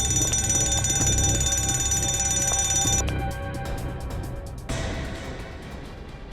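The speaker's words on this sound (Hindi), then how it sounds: "ये अलार्म क्यों बज रहा था?" An alarm rings continuously and loudly, its harsh metallic clang filling the space before dropping in intensity partway through, then continuing more faintly with no one speaking.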